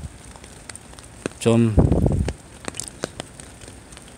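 Rain falls steadily with a soft hiss and scattered pattering drops in the background, while someone talks briefly over it.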